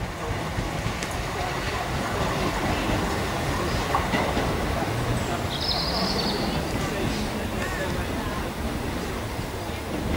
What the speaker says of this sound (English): There comes Gatwick Express, class 442's.